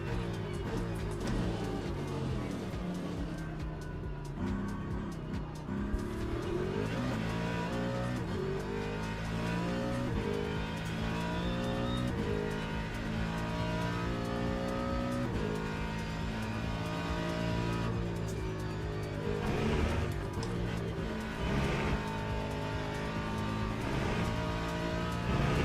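Race cars in the video game Le Mans Ultimate drone continuously, engines rising and falling through gear changes as cars on wet tyres close in and pass, a dense unbroken layer of engine whine without speech.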